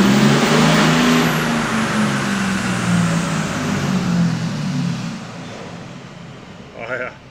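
Cummins diesel truck engine with an aftermarket air intake revving on a dyno, a loud sustained roar that winds down and fades over several seconds before a short sharp sound near the end.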